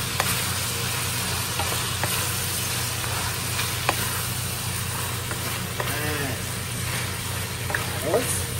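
Carrots hiss and crackle in a hot frying pan, a dense continuous sizzle with occasional spatters and a low hum beneath, close and steady throughout.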